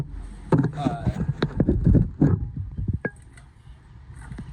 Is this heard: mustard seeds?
no